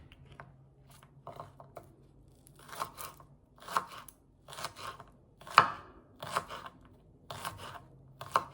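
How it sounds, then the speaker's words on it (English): Five cloves of garlic being chopped with a knife on a cutting board while making stuffed bell peppers, a steady run of sharp, close chopping strikes in clustered bursts with short pauses between them. "Chop 5 cloves of garlic."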